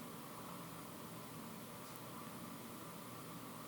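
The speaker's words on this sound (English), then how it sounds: "you can hear the air conditioning" A steady, faint hum of air conditioning fills a quiet room, with an even hiss and no other sounds.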